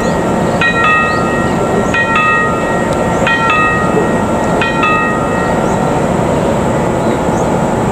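Bandung Raya Ekonomi train departing Rancaekek station, a loud continuous rumble with a repeating bright tonal signal sounding in four short pairs over the first five seconds.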